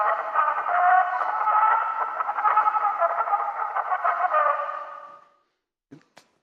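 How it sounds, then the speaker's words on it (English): Edison phonograph cylinder playback: a thin, narrow-band tinny sound with wavering tones for about five seconds, fading out, followed by a couple of faint clicks. "And one of the things he invented was this machine called the phonograph."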